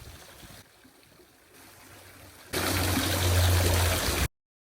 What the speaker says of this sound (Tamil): இது வந்து பார்த்திங்கன்னா அங்கே தண்ணி வந்து ஓவர்ஃப்ளோ ஆகி போயிட்டு இருந்துச்சு இந்த வடிகாலில்.